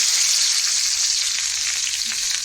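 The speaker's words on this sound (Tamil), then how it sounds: "பச்சை மிளகாவும் பெரிய வெங்காயம் போட்டு நல்லா தாளிச்சு விட்டுக்குங்க" Green chillies and large onions tempering in hot oil after mustard seeds have popped, a steady dense sizzle that stays loud and unbroken throughout, close up with no voices.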